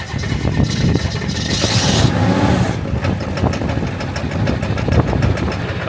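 A diesel flatbed rollback truck engine cranks and catches in the cold, then idles with a loud, rough, knocking clatter that holds steady throughout.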